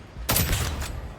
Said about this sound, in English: That was a bad shot.